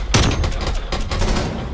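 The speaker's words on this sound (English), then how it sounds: "Well, I start shooting him." Rapid bursts of automatic gunfire in Call of Duty, loud and close, with a sharp opening shot followed by a quick rattling string of rounds.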